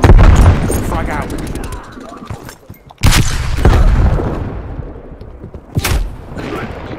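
A frag grenade in Black Ops Cold War multiplayer goes off with a loud, deep boom at about three seconds, amid ongoing gunfire bursts and a second sharp blast near the end; a voice is heard in the mix.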